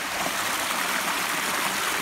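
Creek water flowing steadily as a continuous broadband rush, close and moderately loud with no voices, in a flood-swollen stream.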